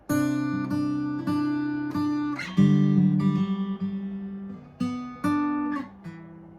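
An acoustic guitar strumming a slow sequence of chords, each one struck clearly and left ringing out before the next, played alone and up close.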